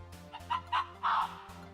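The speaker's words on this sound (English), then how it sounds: "The sound of the Arctic fox." A recorded Arctic fox call plays as a few short, bright, clucking yelps in quick succession, close and moderately loud over a soft steady hum.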